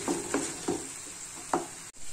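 Spoon stirring a spice mixture of salt, cumin powder, turmeric and chilli powder loosened with a little water in a pan, with a few distinct scraping strokes over a faint steady sizzle.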